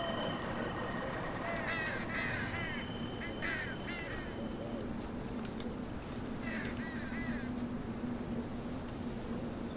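Several crows caw in short bursts of two or three harsh calls over a steady, hissing background hum, fairly faint and at a distance, in the indie horror video game Them & Us.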